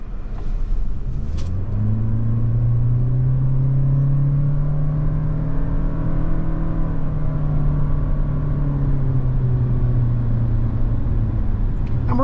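A 2023 Toyota Corolla Cross XSE Hybrid with a CVT pulls away from a standstill, its engine hum rising smoothly into a steady drone without gear shifts, loud and continuous from inside the cabin.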